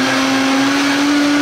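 A professional 1,000 watt blender powered by a Jackery Explorer 1500 runs continuously, with a loud, close, steady motor whine and a constant hum.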